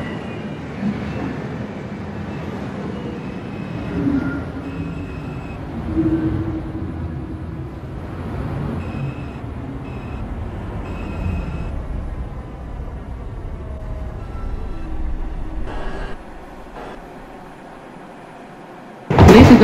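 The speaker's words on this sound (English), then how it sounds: "This is a Woodlawn bound 4 train." A New York City subway 4 train bound for Woodlawn rumbles and rattles steadily at 183rd Street station, with squealing wheel tones and a sudden loud burst at the end.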